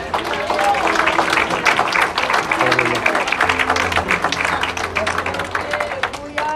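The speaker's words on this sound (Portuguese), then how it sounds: "Você pode agradecer ao Senhor aplaudindo" Church congregation applauding during a worship service, many hands clapping in a lively, uneven patter with murmuring voices and a low sustained tone underneath.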